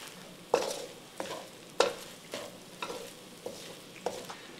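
Olive oil being stirred through ingredients in a pot with a spoon, giving a series of distinct scraping strokes against the pan at a steady pace, close and moderately quiet, with no talking.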